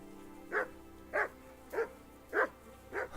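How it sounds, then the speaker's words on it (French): A dog in the medieval video game Kingdom Come: Deliverance barks five times at a steady, evenly spaced rhythm, each bark short and moderately loud over quiet game ambience. "Il y a un chien."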